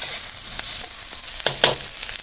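Eel meat being stir-fried with curry paste for a spicy stir-fry, a continuous close sizzle broken by several short scraping stirs of the spatula.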